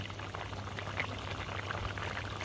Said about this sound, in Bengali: তরকারিতে আমার বলক এসেছে